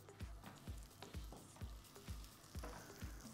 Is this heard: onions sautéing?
yes